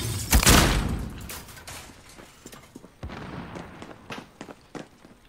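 A frag grenade blasts in Call of Duty: Modern Warfare, a loud close boom near the start followed by scattered gunshots and clatter during an indoor firefight.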